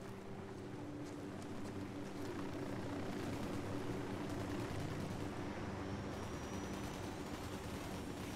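A helicopter in the video game Ghost Recon Wildlands, heard as a steady, moderately loud rotor drone throughout, with no talking.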